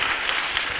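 Audience applause in a hall during a student recruitment roadshow presentation in Polokwane: dense, steady clapping from many hands, sustained evenly across the whole moment with no pauses.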